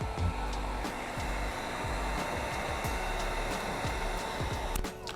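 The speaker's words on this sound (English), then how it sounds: "you could grab your heat device and apply heat to start sealing everything" Heat gun blowing hot air steadily while sealing chrome delete film on the front grille of a 2025-2027 Infiniti QX80, a continuous close whooshing hum with faint clicks, no speech.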